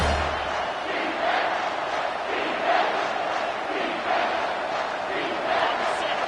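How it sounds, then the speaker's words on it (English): Stadium crowd at a college football game roaring steadily and loudly for the defense on third down, a dense sustained wall of cheering that swells in several waves. "Decibels rising as the crowd gets behind this defense on third down"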